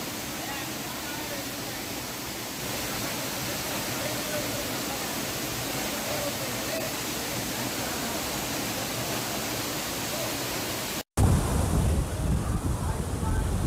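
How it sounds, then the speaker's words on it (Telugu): A waterfall cascades down between hills in a rain-swollen river basin, giving a steady broadband roar that holds evenly, then briefly cuts out and returns louder and closer. "కొండ కోనల నడుమ కిందకి జాలువారే జలపాతం అందరినీ ఆకట్టుకుంటోంది"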